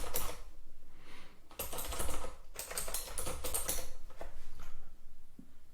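Typing on a computer keyboard, bursts of rapid clicking keystrokes separated by short pauses, close and clear.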